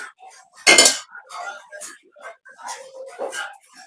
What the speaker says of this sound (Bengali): কড়াইটা বসায় দিছি, পানিটা ফেলাই দিমু।